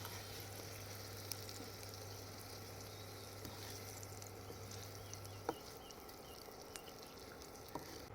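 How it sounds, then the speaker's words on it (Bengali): Salted potatoes fry in oil with a quiet, even sizzle, a low steady hum underneath and a few faint ticks and taps scattered through. "লবণটা দেওয়ার পরে আলুটাকে ভালো করে আমি ভেজে নেব"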